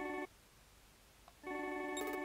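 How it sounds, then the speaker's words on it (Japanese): A telephone rings in a detective adventure game on Nintendo Switch: a short electronic ring burst, a pause, then a longer, brighter ring, clear and alone with no voices. "キャッ、電話か。"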